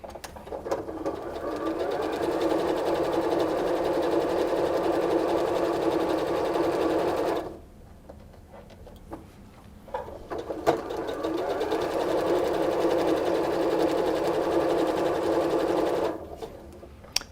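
A sewing machine stitching quilt pieces together runs in two long steady bursts of rapid whirring, each ending in a short pause, close and clear with no talking.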